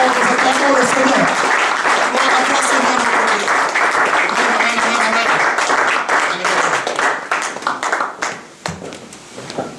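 A church congregation applauds at an evangelist's service. Dense, loud clapping fills the room, mixed with voices, then thins into scattered claps near the end.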